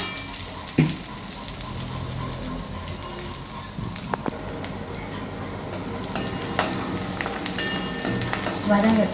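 Cabbage sautés in a pan with a continuous moderate sizzle, punctuated by scattered clicks and scrapes of stirring, heard up close without speech.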